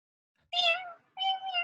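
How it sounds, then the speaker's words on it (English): Two clear cat meows in quick succession, the first rising and falling, the second slightly longer, both close and distinct over silence. "Look, there's a bunch of cats right here."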